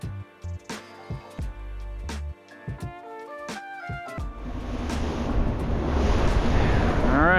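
Out on the open ocean off Florida, wind and waves rush loudly past a small fishing boat, building into a steady roar that follows a stretch of music.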